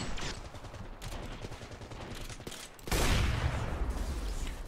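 Gunfire in the video game Ravenfield crackles continuously in a dense, distant-sounding fusillade, with a louder, closer burst of shots in the final seconds.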